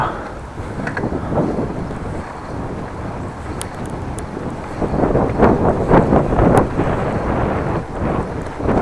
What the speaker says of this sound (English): you can feel wind picking up